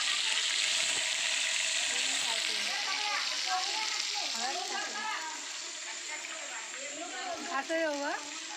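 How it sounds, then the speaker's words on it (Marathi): Jackfruit tempering sizzles steadily in oil in a pan with a bright frying hiss, while people talk nearby over the crackling. "आणि इकडे फणसाची फोडणी चालली आहे"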